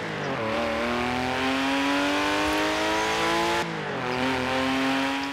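A racing car engine in the video game Forza Horizon 4 revs high and steady, shifts down with a drop in pitch, then climbs again, loud and close.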